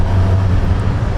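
A Suzuki GSX-R 750 motorcycle rumbles on a dealer demo ride, a loud, steady low engine drone with wind roar, close and continuous over a brief moment.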